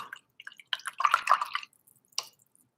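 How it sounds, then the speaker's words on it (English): Paintbrush swished and rinsed in a water jar: a few soft wet dabs, then a louder cluster of sloshing and dripping taps, and a final brief splash, all close and alone. "I'm going to rinse my brush out."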